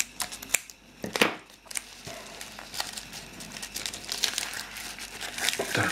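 Plastic packaging from an AliExpress parcel for craft supplies is opened carefully by hand, giving irregular bursts of crinkling and crackling rustle, close and fairly quiet, with brief pauses between handlings.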